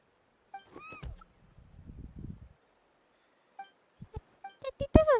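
A kitten in Genshin Impact meows in a short high call, followed by soft rustling, then a run of light clinks and a burst of quick overlapping game sound effects toward the end.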